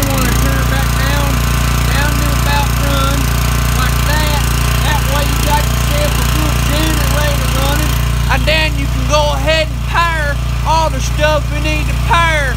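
A Generac 1850 portable generator engine runs at a loud, steady drone after a pull start, close by, while a person talks over it.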